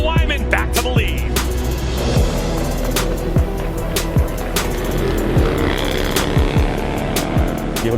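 Harley-Davidson bagger motorcycles race on a track, their engines roaring loudly and continuously, with repeated rising and falling pitch sweeps as bikes accelerate and pass close by.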